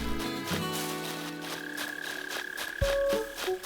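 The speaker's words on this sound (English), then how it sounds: "Sounds like a mole cricket in the ground somewhere." Mole cricket chirping underground in Animal Crossing, a steady pulsing trill repeating under soft game music tones, with no talking.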